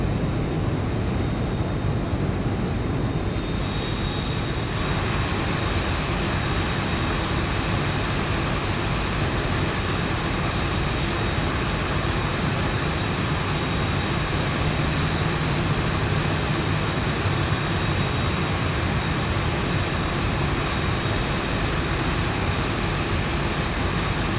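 A Zibo Boeing 737-800 lands in the X-Plane 12 flight simulator with a continuous, loud jet engine roar and broadband rushing noise that holds steady throughout, with no talking.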